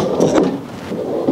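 A drawer slides out of a truck bed storage system with a short wooden rumble and scrape, fairly close and loud.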